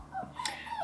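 Young female puppy whimpering, a thin rising whine with soft yelps, close and brief against a quiet indoor room.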